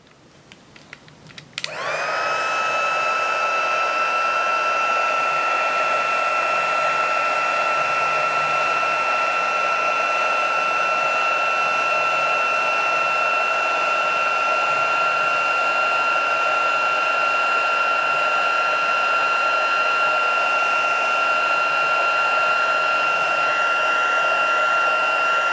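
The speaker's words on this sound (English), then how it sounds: "And then we'll go ahead and grab our heat gun." A heat gun starts with a click and then blows hot air in a loud, steady whine with a constant tonal hum, running alone without pause.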